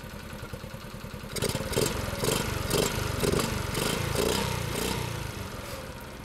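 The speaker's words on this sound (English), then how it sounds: "I'm just going to readjust the throttle again to get the idle as low as possible while it's still smooth." A Baja pit bike's small single-cylinder engine idles close by after a carburetor and throttle tweak, a steady rhythmic putter with clattery pulses that grows louder about a second in and stays even.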